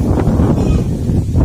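Wind gusting steadily across an open farm overlook in the countryside, a constant low rumbling buffet on the microphone throughout with no voices.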